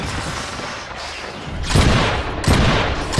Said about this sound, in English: Can we see what a shotgun turret can do there,